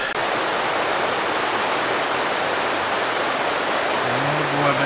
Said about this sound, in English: You can hear the water next to us, which is nice.